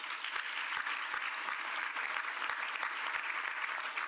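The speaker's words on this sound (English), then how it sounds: "So we still want to give him a round of applause" Applause from the audience at a summer youth internship program celebration in DeKalb, a continuous bright rain of clapping with a few sharper individual claps standing out, steady and unbroken with no speech.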